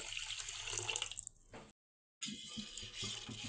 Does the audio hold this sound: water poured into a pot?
yes